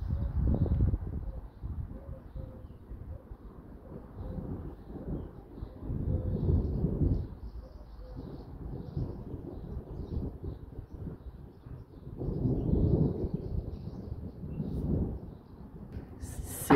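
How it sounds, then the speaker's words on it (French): Low rumbling thunder from a forming hailstorm rolls in slow waves, rising and fading over wind noise outdoors, fairly distant and muffled. "C'est un immense orage de grêle en formation."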